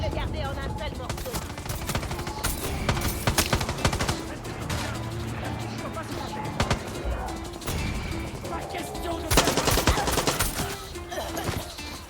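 Gunfire in the video game Far Cry 6, a dense stream of shots and bursts crackling through the whole stretch over a busy mix of game sounds, with a louder cluster of impacts near the end.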